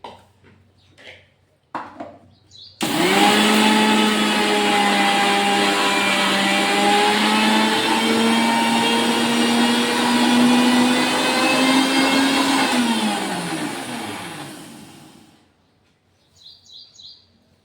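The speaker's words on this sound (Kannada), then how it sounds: "ಈಗ ಇಷ್ಟು ಹಾಕಿ ಇದಕ್ಕೆ ಮಿಕ್ಸಿ ಮಾಡಮ್ರಿ" Kitchen mixer grinder pulverizing spices with nutmeg, starting abruptly into a loud, rough whirring roar with a high whine that runs steadily for about ten seconds before winding down, with quiet handling sounds before and after.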